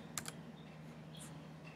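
A few quick, faint keystrokes on a computer keyboard near the start, typing an answer into a Duolingo language exercise, followed by quiet room tone.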